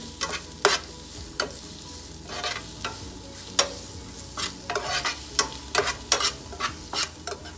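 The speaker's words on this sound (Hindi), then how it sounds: "मीडियम आंच पे हमने आलू को थोड़ी देर तक फ्राई कर लिया है।" Boiled potatoes fry in oil in a pan over medium heat, crackling and sizzling with sharp bursts of spattering and stirring scrapes at irregular intervals, close and fairly loud, no voices.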